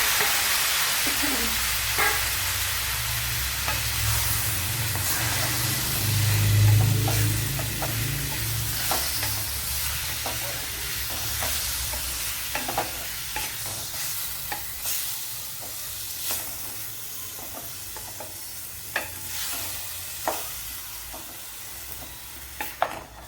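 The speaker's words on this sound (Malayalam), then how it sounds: "ഇനി ഇതിലേക്ക് നമ്മുടെ വെള്ളരിക്ക തട്ടിക്കൊടുക്കാം" Cucumber for pachadi sizzles in a hot pan on low flame while a spoon stirs it, with scraping and clinks over a constant frying hiss.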